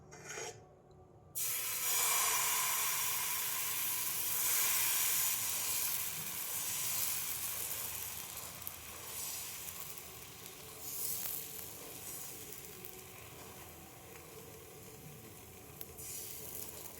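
Oil sizzles steadily on a hot tawa greased for Bengali patishapta, a dense, continuous hiss that flares loudest early, with a short quiet gap near the start, then settles and holds.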